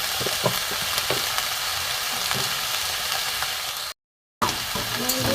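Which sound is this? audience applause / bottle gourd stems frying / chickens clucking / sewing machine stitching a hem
bottle gourd stems frying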